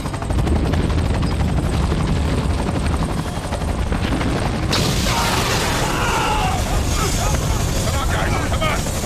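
A helicopter in a disaster movie thunders close and loud with a continuous rotor roar throughout, its sound briefly shifting midway.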